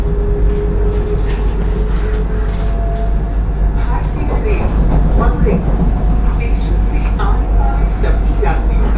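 Vande Bharat Express train crossing the Vaigai river bridge, heard from inside the coach as a loud steady rumble with rhythmic rail clatter and intermittent clicks, a voice talking over it.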